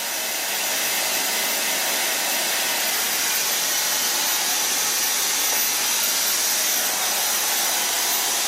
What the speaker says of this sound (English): Now so far blow drying.